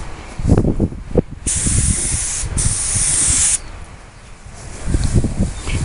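A spray gun shoots KlassKote paint onto a B-24 bomber model in short hissing bursts, each blast sharp and steady before cutting off, with low murmured talk in the gaps between sprays.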